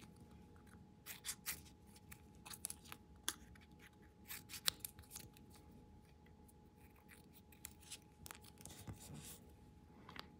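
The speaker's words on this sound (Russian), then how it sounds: "я сейчас макушки вот так обрезаю" Scissors trim the tops off decorative paper pieces, a series of crisp, close snips at an irregular pace with quiet pauses between cuts.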